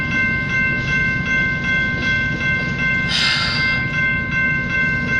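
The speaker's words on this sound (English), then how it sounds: "The never-ending train." A long freight train rolls past in Stockton, California, a loud continuous rumble of wagons with rhythmic clanking and a high metallic squeal, alone without voices.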